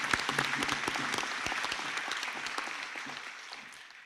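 A graduation ceremony crowd claps for graduates, a dense, sustained round of applause from many hands that holds steady before gradually tapering off.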